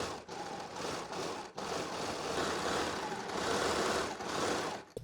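A sewing machine runs a zigzag stitch along the edge of scrunchie fabric, producing a steady mechanical whir that stops briefly a few times before resuming, fairly quiet and close.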